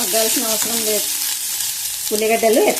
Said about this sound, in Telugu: ఉల్లిగడ్డలు కొంచెం మగ్గనిద్దాము